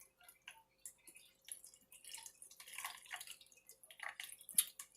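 Rice water poured from a container, light irregular splashing and trickling drips, faint and close, with no talking.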